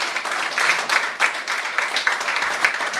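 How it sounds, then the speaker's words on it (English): A comedy club audience applauds a stand-up comedian at the end of his set, with steady, dense clapping that stays at an even level for several seconds. "Thomas J. Bellezza, give him a round of applause."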